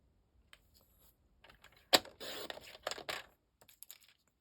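A paper trimmer cuts craft paper down to size for a gift card holder, giving one sharp snap followed by a few short sliding, scraping strokes close by with quiet handling noises around them.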